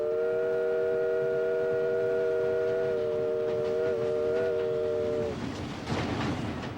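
A steam train whistle sounds a long, steady two-tone blast for about five seconds, loud and close, then cuts off, leaving rumbling train noise and clatter.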